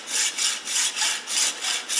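A plastic piece is cut off a stainless steel apple corer in a steady back-and-forth sawing rhythm. Each rasping stroke lasts about a quarter second, and the cutting is close and clear with no talking.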